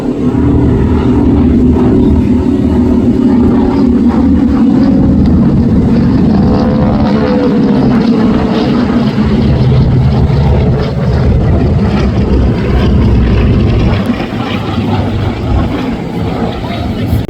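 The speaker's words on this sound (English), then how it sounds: "Now look back to the left, you see the C-45 touching down." A Beechcraft C-45 Expediter twin-propeller aircraft touches down at the Wings over Houston airshow, a loud, close, continuous engine drone with wind rumble that eases slightly near the end while someone talks over it.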